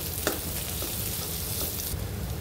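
Baby potatoes frying with turmeric in a kadai, a loud continuous close sizzle with a few stirring knocks, no talking.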